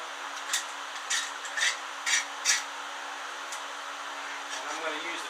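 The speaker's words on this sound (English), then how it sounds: "I'm going to get my big long clamp." A big long clamp is handled against wooden boards, giving several short rubbing scrapes and knocks at close range over a steady background hiss.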